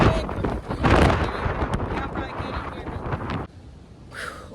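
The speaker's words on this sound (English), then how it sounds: "the wind really picked up now" Strong gusting wind buffets the microphone outdoors on a farm, with loud rumbling bursts that swell and ease over several seconds before dropping to a quieter hiss.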